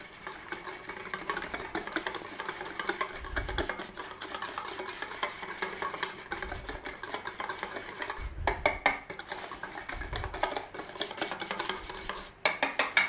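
Glaze being mixed in a bowl for roasted carrots: soft scraping and clinking of a utensil against the bowl, with a few low thumps, close and fairly quiet.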